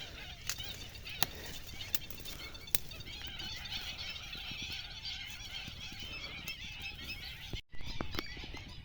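A dense chorus of wild ducks and geese calling continuously at a distance, with occasional sharper honks standing out from the flock noise.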